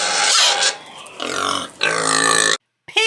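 A pig oinks and grunts in a few loud, throaty bursts, with a short silence before a final squeal.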